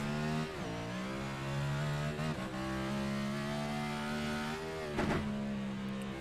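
Race car engine working through the esses at Sonoma Raceway, a close, steady droning howl that dips and rises with throttle changes, briefly dropping off twice before climbing again.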